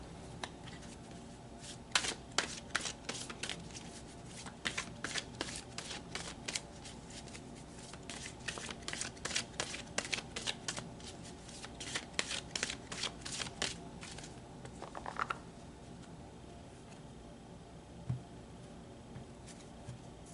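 A deck of tarot cards is shuffled repeatedly, with crisp riffling bursts and soft slaps of the cards heard up close in a quiet room, without any voices.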